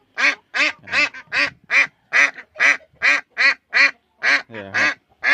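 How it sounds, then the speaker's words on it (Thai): Clear, loud quacks from a female laying duck, about a dozen evenly spaced calls close to the listener, each sharp and well separated by short pauses. "นี่นะครับอันนี้ตัวเมียเสียงชัดเจนเลย"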